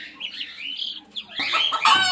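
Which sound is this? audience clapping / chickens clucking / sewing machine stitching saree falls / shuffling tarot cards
chickens clucking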